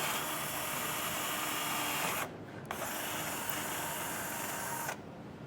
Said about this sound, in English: So drill through here.